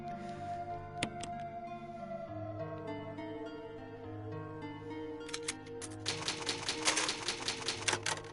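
A typewriter clacks while the game is saved in Resident Evil Remake: a few scattered keystrokes over a low, sustained musical background, then a dense, rapid burst of clattering keys near the end.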